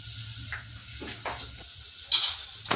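Curry leaves dropped into hot oil with garlic for vaghareli khichdi, giving quiet sizzling and a few stirring scrapes, then a sharper spit of crackle near the end.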